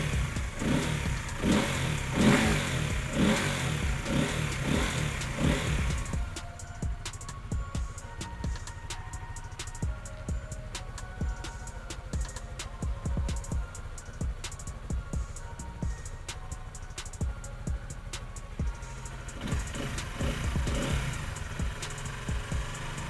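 A 2019 Honda Sonic 150R motorcycle engine revs loudly for a few seconds, then settles into a steady, putting idle with a rapid ticking rhythm nearby.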